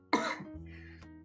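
A single person coughs once, a sharp, close, phlegmy burst followed by a short rough throat-clearing rasp, fairly quiet in an indoor room.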